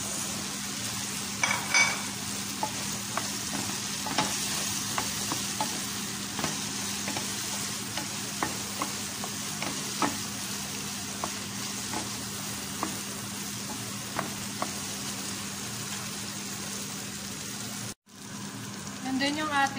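Potatoes sizzle in a pan beside zucchini, a steady soft frying hiss broken by scattered clicks and scrapes as they are stirred, fairly quiet and close.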